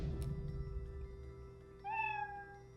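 A single clear meow from a cat in the video game Skul: The Hero Slayer, rising then falling over a low steady game music hum.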